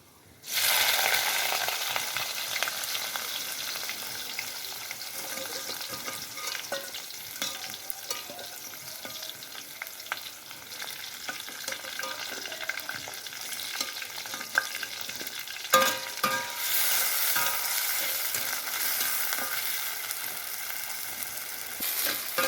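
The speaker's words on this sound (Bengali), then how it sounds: "এখন পেঁয়াজগুলো ভালোভাবে ভেজে নিতে হবে" Onions fry in hot oil and are stirred with a scraping utensil in a clay-pot biryani kitchen, a loud continuous sizzle with repeated stirring scrapes and no talking.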